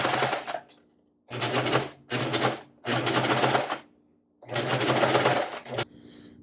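A sewing machine stitches a basted V-neck on a garment in close, loud bursts of rapid needle chatter, several runs of about a second each with brief pauses between, ending in a short final burst and quiet.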